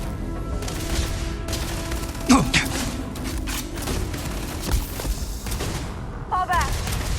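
A firefight in the Starfield video game brings scattered gunshots and a sharp impact amid shouting voices, the shots close and punchy under the talk.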